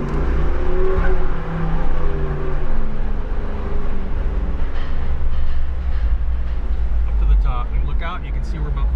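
A 2024 Jeep Wrangler 392 Rubicon with a 6.4-liter Hemi V8 rated at 470 horsepower drives the Camp Jeep course at the Detroit Auto Show, its deep, loud engine rumble rolling continuously beneath someone talking.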